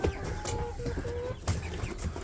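A large rooster weighing over 5 kg clucks a few times close by, with low throaty calls over a steady farmyard background hum.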